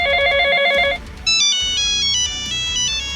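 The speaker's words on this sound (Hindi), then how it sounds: "जल्दी चिंगम सर को फोन करो" A telephone ringtone plays in a Hindi animated cartoon, a bright repeating electronic melody of short beeping tones that shifts to a higher ringing pattern partway through, loud and alone.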